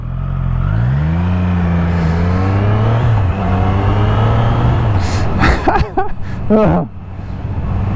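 An Abarth sports car revs its engine, the pitch climbing then holding before it roars past close by, followed by sharp bursts of throttle; a voice talks over the passing.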